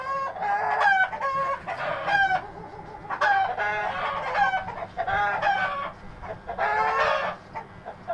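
A rooster crows repeatedly among clucking chickens, several loud, drawn-out calls in bursts with short pauses between, close by over a low background murmur.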